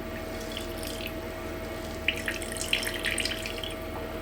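Water squeezed from hot cooked cauliflower pulp wrapped in cheesecloth trickles and drips into a bowl, a faint steady wet patter that rises into brief louder spurts and splashes partway through.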